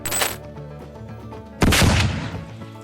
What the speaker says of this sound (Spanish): hay disparos